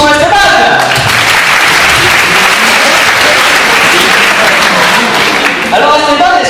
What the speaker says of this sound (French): mesdames et messieurs, applaudissons Esteban!